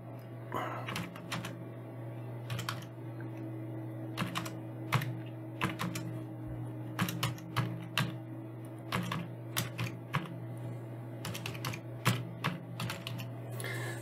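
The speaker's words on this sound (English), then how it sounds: "so here I will write a command, issue this command" Someone types a command on a computer keyboard, with quiet, close, irregular key clicks in short runs over a steady low electrical hum.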